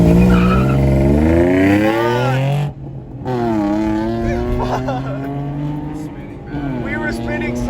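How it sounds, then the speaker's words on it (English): Tires of a 2008 Honda Accord V6 coupe spin and squeal during a drag race launch against a Nissan 350z, a loud sustained whine with engine roar, broken by a brief gap before rising again. "We were spinning so bad there, man."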